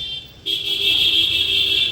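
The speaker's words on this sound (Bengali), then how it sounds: "হংকিং করতেই আছে, হর্ন বাজাতেই আছে প্রত্যেকে" A steady vehicle horn sounds on a sparse town street, starting abruptly and holding as one continuous bright tone for over a second over low traffic rumble.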